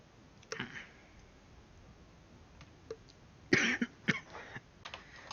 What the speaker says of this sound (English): Oh, excuse me, coughing fit there for a second.